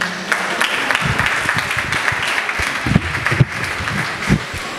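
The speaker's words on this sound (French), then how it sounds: "Donc je vous demande de l'applaudir, s'il vous plaît." Applause from an audience at a student association ceremony in Senegal, a steady broadband patter of many hands with scattered louder claps, sustained throughout at moderate level from a roomful of people.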